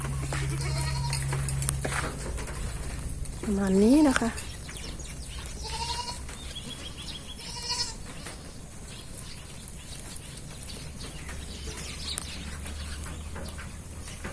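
Goats from a herd of about 75 bleat repeatedly while being let out to graze after months penned, with one loud wavering bleat standing out near the start over steady farmyard noise as someone speaks briefly.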